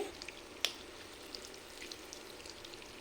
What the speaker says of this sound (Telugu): వీటిని రెండో వైపుకి తిప్పుకొని ఇంకొక రెండు నిమిషాలు ఫ్రై చేసుకోవాలి